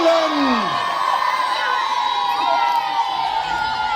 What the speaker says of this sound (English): If it is, then cheer now for the Saxon English.